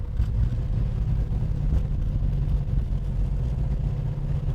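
A 1969 Ford Mustang Boss with a Kaase-powered engine drives along, its deep steady rumble loud and close, rising gently as it pulls through the gears, with no voices.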